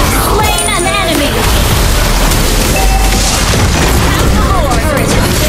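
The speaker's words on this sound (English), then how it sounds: "Our turret has been destroyed!" A turret destroyed in Mobile Legends goes up in heavy booms inside a dense, loud wall of battle noise, with voices speaking throughout.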